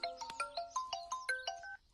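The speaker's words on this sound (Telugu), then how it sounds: "ఇదిగో వాడే ఫోన్ చేస్తున్నాడు, నువ్వే లిఫ్ట్ చేయి" A phone ringtone plays a bright, quick electronic melody of rising and falling beeps, clear and alone, stopping after about two seconds.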